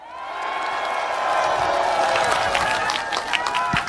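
A campaign rally crowd applauds and cheers at a presidential candidate's event, a steady dense wash of clapping with scattered whoops, loud and sustained throughout, with a voice faintly mixed in.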